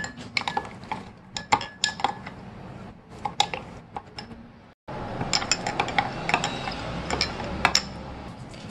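A spoon clinks repeatedly against a container while stirring a vegetable or Knorr stock cube into hot water, with quick irregular metallic taps close by and no talk.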